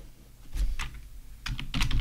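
Fingers tap quickly on a computer keyboard, with two short clusters of close, light key clicks over a faint room hum.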